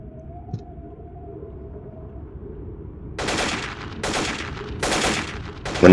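Video game gunfire: after a quiet stretch with a faint low tone, several loud bursts of rapid automatic fire come in separate volleys, each a few tenths of a second long.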